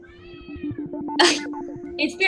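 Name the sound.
cat meowing under a table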